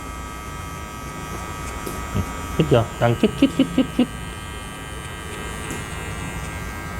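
Electric clippers buzz steadily nearby while cutting a high fade men's haircut, a voice saying a short run of rhythmic Thai syllables, with a steady hum underneath.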